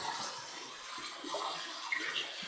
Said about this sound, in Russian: Набирается бассейн, плавательный сезон открывается.